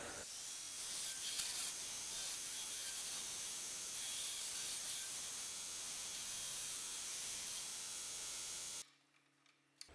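A belt grinder grinding a radius into a part held on a pin in a jig, a continuous loud hissing abrasive roar for about nine seconds that then cuts off abruptly into near silence.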